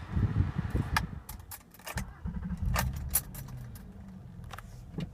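Keys jangle close by, followed by soft clicks and a low engine rumble as a 2009 Honda Accord Coupe with a 3.5 liter J35 VTEC V6 starts up, the engine settling quietly under scattered jingling.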